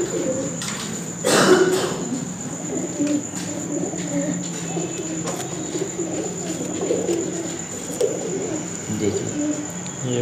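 Caged Sialkoti and Kasuri pigeons coo in soft, low repeated phrases close by, with a brief rustle or flutter early on and occasional faint chirps.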